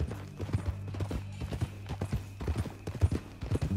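Horse hooves clip-clop in Red Dead Redemption 2, a steady walking rhythm of close, moderately loud hoofbeats over a low rumbling hum.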